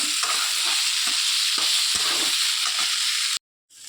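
Elephant foot yam sizzles in hot oil with spices, a loud continuous frying hiss with scattered soft stirring taps, cutting off abruptly near the end into near silence.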